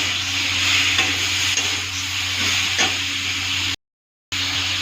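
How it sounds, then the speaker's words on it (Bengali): Tomato and mango sizzle in a pan with a few soft stirring scrapes over a steady hiss. A brief dropout of silence falls near the end. No talking. "এখন টমেটো আর আমটা একসাথে ছেড়ে দেবো। ভালো করে একটু নেড়ে চেড়ে দেবো।"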